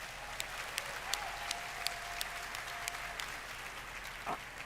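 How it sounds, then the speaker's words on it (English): An audience claps at a Roblox developer keynote event, steady moderate applause heard from a distance with sharp individual claps popping out, and a brief voice near the end. "Can I get a round of applause for our devoted creators of assets and tools?"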